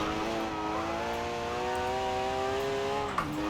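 Rear-engine Group B rally car in Forza Horizon 4 holding a steady, buzzy engine drone as it snaps into oversteer, with the pitch sagging and a brief knock near the end.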